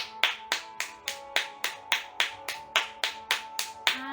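A church congregation clapping together in a steady, even rhythm, each clap sharp and bright over a faint sustained musical tone.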